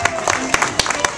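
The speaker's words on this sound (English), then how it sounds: "Let's give him a round of applause," Audience applause at Captain Jack's Pirate Tutorial show in Walt Disney World's Magic Kingdom, with scattered sharp claps rising over background crowd noise and chatter for a brief moment.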